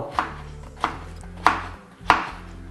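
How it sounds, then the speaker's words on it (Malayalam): Four sharp knife chops through pineapple land on a cutting board at a slow, even pace, close and clear with no talking. "ഒരുമാതിരി ചെറുതായിട്ടൊക്കെ കൊത്തി അരിയാം"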